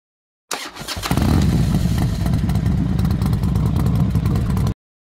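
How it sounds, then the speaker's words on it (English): A Polaris RZR Pro XP's 925cc ProStar turbo engine, rated at 181 horsepower, fires up and then roars loud and close in a sustained, rasping high-rev scream for about four seconds before cutting off abruptly. "925 cubic centimeters ProStar turbo engine is screaming a beautiful song, a full 181 horsepower ready to put the competition on notice"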